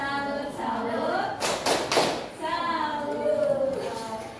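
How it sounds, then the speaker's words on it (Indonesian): A primary school class doing a rhythmic clapping cheer in an Indonesian classroom, a short flurry of claps mixed with children's chanting voices and a teacher talking. "Oke, tepuk salut dulu buat kelas 5."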